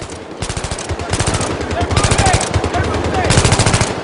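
Loud, continuous automatic gunfire from the video game Battlefield 3 rattles in rapid bursts, with heavy, dense shots running through the whole stretch.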